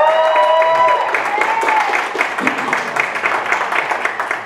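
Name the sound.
audience applause at convention panel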